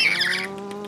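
A pet bird that mimics people's greetings gives a short burst of bright, close squawking chirps, with a steady tonal hum beneath and softer chirps trailing off in a garden setting.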